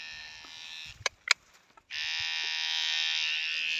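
Electric animal hair clippers hum with a steady high-pitched buzz, switching on after a few brief clicks and handling noises, then running continuously at close range.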